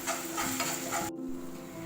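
Soy sauce being stirred into a cabbage manchurian mixture in a hot pan, with a soft sizzle and scraping strokes that cut off abruptly near the end.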